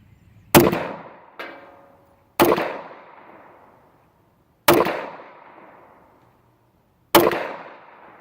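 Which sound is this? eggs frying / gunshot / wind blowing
gunshot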